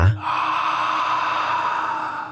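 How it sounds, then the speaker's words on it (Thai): A breathing sound effect for a ghost story: one sharp, close gasp, then a long, drawn-out breath that hisses steadily with nothing else heard. "เสียงหาย ใจดังขึ้นในหูขวา"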